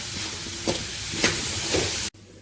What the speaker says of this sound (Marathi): आणि व्हेजिटेबल्स बी पळयात काय बरे फ्राय जाता हेतून